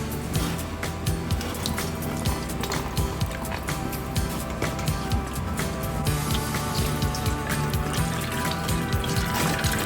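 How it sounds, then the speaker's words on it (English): Water poured and running over a cereal mix being washed in batches at home, a steady liquid wash with splashing and trickling throughout, fairly loud and close. "It is time now to wash our cereal mix."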